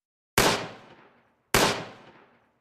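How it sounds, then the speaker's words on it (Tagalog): Two sharp, loud gunshot-like bangs about a second apart, each with a fading echoing tail, in an otherwise silent background. "Dalawang malalakas na putok ang umalingaw-ngaw"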